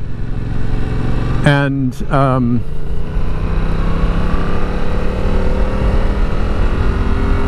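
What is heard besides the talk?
Yamaha R7 motorcycle engine while riding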